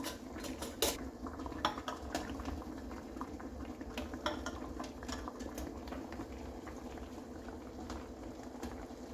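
A pressure canner lid settles onto the pot with a few close metallic clanks and clinks over a steady rolling bubble of boiling water.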